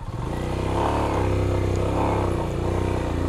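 A motorcycle engine revs hard and steadily while its wheel is stuck in soft mud from a fresh landslide on a mountain road in East Sikkim. The throbbing engine note is loud and close throughout, with no voice.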